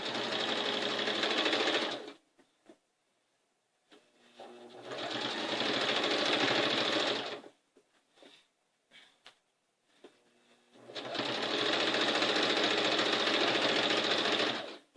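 A sewing machine runs in three long bursts of rapid mechanical stitching, with short quiet pauses and faint clicks between runs.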